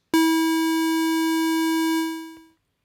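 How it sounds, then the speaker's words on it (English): A buzzy, harmonic-rich square wave synth tone from Ableton Live holds steady and loud for about two seconds, then fades out quickly, heard alone with no talk. "This is just a square wave"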